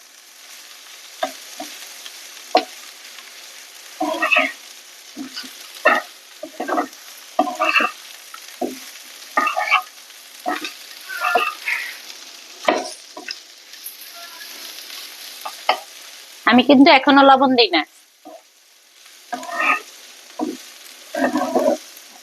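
Ash gourd with grated coconut stir-fries in a pan, sizzling steadily under repeated scrapes and stirs from a spatula, with one louder, longer burst of sizzling partway through, and someone speaks briefly.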